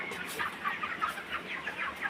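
Chickens on a poultry farm give soft, repeated clucks in a quick rhythm, close and moderately loud over a faint farm background.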